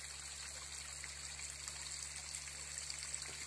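Water of Elvira's waterfall on Fruška Gora near Irig streams and trickles in a steady, soft, continuous wash with a constant low hum underneath, no voices.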